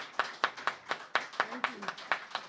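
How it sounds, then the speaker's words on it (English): Sparse, individual hand claps at a tribute concert, about a dozen distinct claps at uneven intervals, fairly close, with a voice rising briefly in the middle. "One round of applause again for Rafael."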